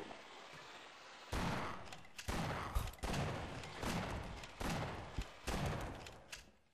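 Shotgun blasts in Half-Life: Source, about six heavy booming shots at a steady, unhurried pace after a quiet start, each with a short decaying tail, and no speech.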